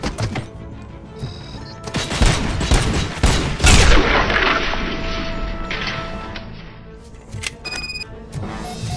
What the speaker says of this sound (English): Which one's shooting at me?